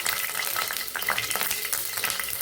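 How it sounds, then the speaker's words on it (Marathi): Green chillies fry in hot oil in a pan, giving a steady, close sizzle with crackling bursts throughout and no talk. "इथे एका पॅनमध्ये मी तेल तापवून घेतलं आहे तेल व्यवस्थित झालं की याच्यामध्ये आपण मिरच्या टाकून घेऊ"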